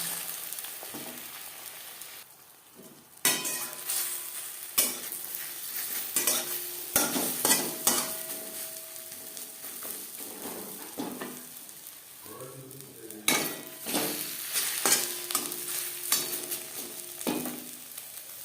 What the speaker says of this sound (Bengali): সার্ভ করার জন্য ডিমের অমলেট তৈরি করে দেবো